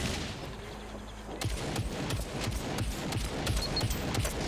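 Gunfire and rocket launcher blasts from mech robots in the video game SCUM: continuous dense rumbling combat noise with a run of rapid, evenly spaced shots in the latter half.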